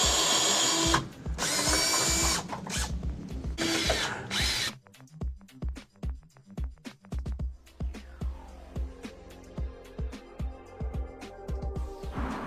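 Ratchet removing radiator bracket support bolts on a 1999 Mustang Cobra, a few seconds of loud power-driver whirring followed by a steady run of close, rhythmic ratchet clicks.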